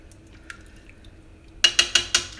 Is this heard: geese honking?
no